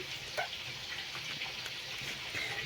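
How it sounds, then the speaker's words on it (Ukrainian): Boiling water poured over a vinegar marinade for homemade burgers, a steady, moderately loud gushing and splashing that runs continuously with slight surges. "І заливаємо це все кип'яточком."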